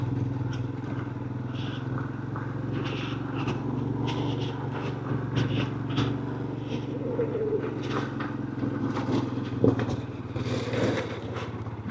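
A motorcycle ridden over loose gravel on a mountain route in Uttarakhand toward Om Parvat, with a steady engine drone under scattered crunching, scraping and clattering of stones beneath the tyres.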